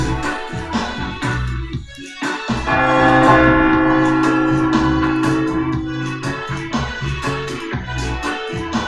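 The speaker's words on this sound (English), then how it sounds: "That's the bell." A stock market opening bell rings out with a sustained, resonant metallic tone that swells around the three-second mark and holds steady, loud and close, before slowly fading, with no talking over it.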